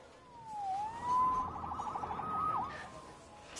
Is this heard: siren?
yes